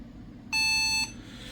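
A single sharp electronic error beep from a Dell Latitude CPi-A laptop, high and steady for about half a second, then stops abruptly over a faint background hum.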